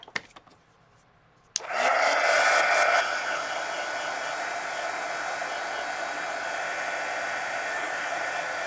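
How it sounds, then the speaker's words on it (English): A heat gun switches on with a click and roars into a steady, loud blowing hiss, drying a drawing; the airflow stays constant and close with no talking over it. "now let me hit this with a heat gun and dry that"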